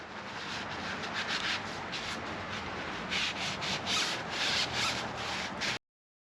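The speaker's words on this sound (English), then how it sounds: "now I'm going to wipe down the axle" A rag rubs along the front wheel axle of a Harley-Davidson touring motorcycle, making a steady close scrubbing swish with a few harder strokes near the end before it stops abruptly.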